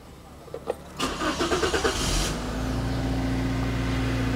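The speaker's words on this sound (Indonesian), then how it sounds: "Saya akan nyalakan mesinnya." A 2011 Daihatsu Sirion automatic starts up: a few clicks, a rapid rhythmic starter cranking, then the engine catches and settles into a steady idle hum close by.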